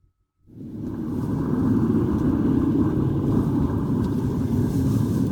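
A car rolls along Route 12 into Santa Rosa, its steady engine rumble and road noise starting abruptly after a moment of silence and holding loud and close inside the cabin.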